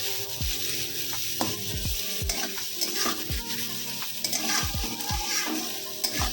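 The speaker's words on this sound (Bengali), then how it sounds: "পেঁয়াজটা ছেড়ে দেবেন না, ভালো করে নাড়বেন, না হলে একদিকটা পুড়ে যাবে।" Onions frying for chicken biryani under a constant loud sizzle, with repeated scraping stirs and spoon knocks against the pan at an uneven rhythm.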